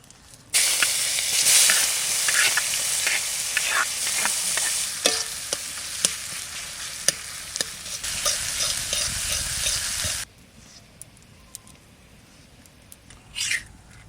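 Bay leaf, cumin and onion hit hot oil and sizzle loudly for about ten seconds with steady frying hiss and occasional stirring clinks, then the sizzle drops to a quieter simmer.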